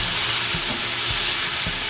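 Masala with chilli powder, garam masala and turmeric sautéing in a pan for Kerala-style fish biryani, a loud continuous hiss and sizzle with brief scraping strokes, close up.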